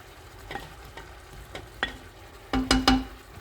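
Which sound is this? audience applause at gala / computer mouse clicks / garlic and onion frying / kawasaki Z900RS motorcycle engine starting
garlic and onion frying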